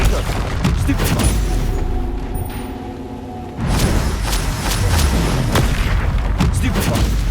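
Spells cast in combat in Hogwarts Legacy, booming blasts and whooshing bursts in quick succession, dense and loud, broken by a short lull midway while a player shouts spell names.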